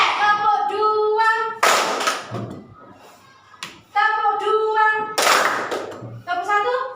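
Children at a preschool activity clap along to a leader's chanted instructions, short bursts of hand claps alternating with sung and spoken voices close by.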